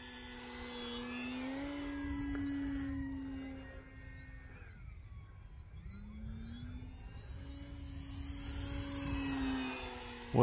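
An E-flite Extra 300 RC aerobatic airplane makes knife-edge passes over a park, its electric motor whine rising and falling in pitch as it sweeps by twice at moderate distance.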